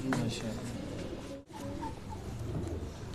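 Pigeons coo softly in low, rolling calls, close by, with a brief dip into quiet midway and faint background voices.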